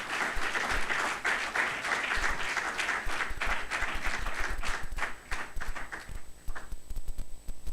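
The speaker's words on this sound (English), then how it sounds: "A round of applause for him," Applause at a leadership programme closing ceremony for a foundation chairman, a full room clapping steadily before thinning out near the end, with a few scattered claps trailing off.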